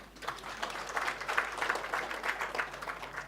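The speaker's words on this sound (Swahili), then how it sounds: "Si hata nyinyi mujipigie makofi." Audience applause at a Dhamini Sacco meeting, a steady wash of many hands clapping together at moderate distance, swelling slightly and sustained throughout.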